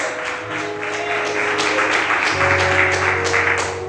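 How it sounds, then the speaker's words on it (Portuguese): Congregation applauding during a church service, a steady wash of clapping that fills the whole stretch, with sustained organ or keyboard chords held underneath. "Vamos aplaudir o Senhor."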